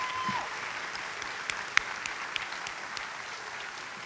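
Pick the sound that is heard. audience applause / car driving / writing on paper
audience applause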